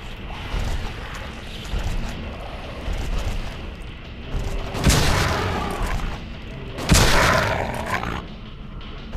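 Gunfire aimed at a monster in Silent Hill 2 comes as two loud, sharp booming shots a couple of seconds apart, set over a dense, rumbling game soundscape.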